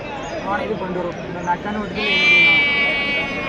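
Bandur rams bleating at a crowded sheep market, loud drawn-out bleats rising near the end over steady chatter and voices in the background.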